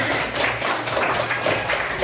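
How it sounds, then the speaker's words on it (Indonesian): A group of teachers or students in a classroom session claps together, a close, dense, rhythmic patter of hands with soft recurring accents and no speech. "ini semua tepuk tangan"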